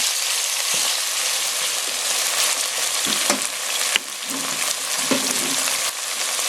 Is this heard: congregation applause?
no